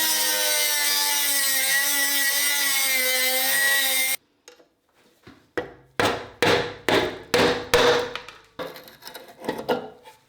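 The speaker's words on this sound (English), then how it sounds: "So I'm going to use my Dremel and I'm going to try and cut it off that way." A Dremel cutting an anti-theft bolt on a helmet latch of a rusty Honda CB250, a loud steady high whine for about four seconds, then a series of sharp rhythmic knocks and scrapes, close with no talking.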